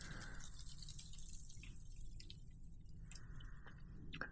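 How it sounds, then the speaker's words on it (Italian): Snow falls and drips from trees on a snowy mountain trail during a snowshoe hike, giving faint, scattered drips and soft plops over a steady outdoor hiss, with no talking. "neve che cade dagli alberi"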